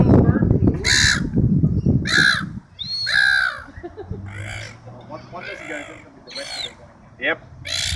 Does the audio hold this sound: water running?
no